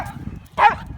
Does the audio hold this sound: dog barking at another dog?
yes